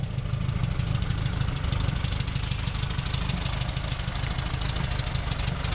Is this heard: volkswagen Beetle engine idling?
yes